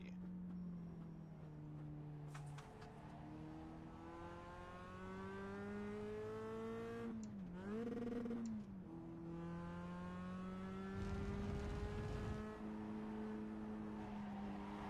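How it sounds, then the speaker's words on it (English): A Mazda Cup race car in the iRacing sim at Laguna Seca engine brakes hard after a downshift into first gear. The engine drone falls and rises through several pitch sweeps, with a blip in the middle, under steady road and tyre noise. "I drop down to first. Yeah, it engine brakes hard."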